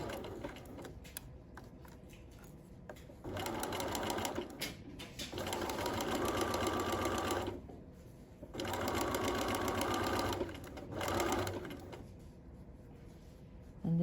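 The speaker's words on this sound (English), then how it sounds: "And now I can go ahead and sew the rest of this facing edge." A sewing machine stitches the facing edge of a notched-collar jacket in three sustained runs of rapid, even whirring, with quiet pauses between them. Each run is fairly close and moderately loud.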